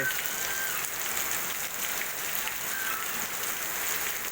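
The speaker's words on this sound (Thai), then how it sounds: "ฝนตกที" Rain falling outdoors as a steady, even hiss of drops on surfaces, moderately loud and continuous throughout with no voices.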